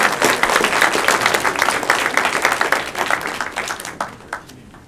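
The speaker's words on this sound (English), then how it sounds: "I'm going to give a round of applause." A room of people at a university game day event clap for the winner, a dense burst of applause that is loud at first and thins out toward the end.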